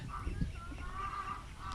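A chicken near Ömerli dam lets out faint, repeated nasal calls in short bursts, quiet and somewhat distant against a low background rumble.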